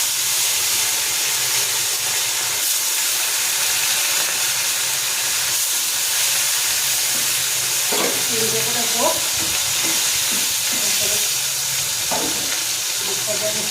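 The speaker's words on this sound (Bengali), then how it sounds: "মাছ ভাজা।" Bata fish frying in hot oil for a thin curry, a steady close sizzle and hiss throughout, with brief bursts of a voice talking near the end.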